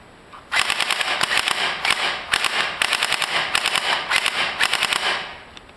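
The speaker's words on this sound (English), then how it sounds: "first we're going to see the robot fires in a semi mode" A Lego NXT robot drone's motor-driven trigger fires in quick bursts: a loud mechanical clatter of rapid clicks grouped into repeated volleys with brief gaps between them, close and alone.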